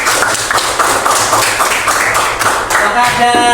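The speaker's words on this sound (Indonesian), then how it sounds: "Oke, tepuk tangan." Students in a classroom clap their hands, a loud close burst of irregular claps and taps that gives way to a voice at the end.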